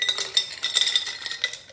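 A spoon stirring ice cubes in a glass of ginger, lime and sweetener moonshine drink, giving a quick run of bright clinks and rattles, close and fairly loud, with no talking.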